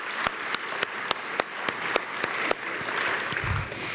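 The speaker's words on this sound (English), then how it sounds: "you can give yourselves a round of applause" An audience at a community college professional development day breaks into applause, a dense wash of clapping that holds steady and fills the room for a few seconds, with a few sharp louder claps standing out near the front.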